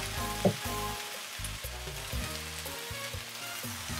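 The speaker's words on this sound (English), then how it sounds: "we're going to go ahead and add in the rest of our ingredients. The onions, peppers, mushrooms." Onions, peppers and mushrooms sizzle loudly in a pan for a teriyaki chicken stir-fry, giving a dense continuous frying hiss with occasional stirring clatter and no talk.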